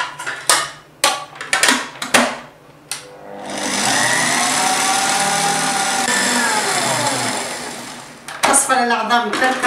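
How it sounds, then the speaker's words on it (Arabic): An electric mixer beats egg yolks and sugar for a genoise sponge for a rainbow New Year cake, a steady whirring drone of about five seconds, with talking before and after it. "باش ناخذ الخلاط، باش نحط أصفر العظم والسكر"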